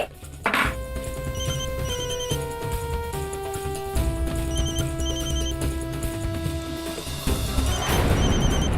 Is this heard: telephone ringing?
yes